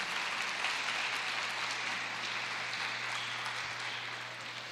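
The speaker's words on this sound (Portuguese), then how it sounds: "Aplaude o Senhor Jesus" A congregation claps continuously during a church sermon: a steady wash of applause over a low hum, fairly quiet and even, with no voices over it.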